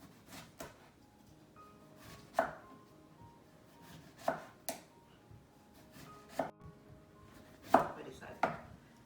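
A knife chops cucumber on a cutting board for a veggie smoothie, giving sparse, irregular, quiet thuds against a low kitchen background.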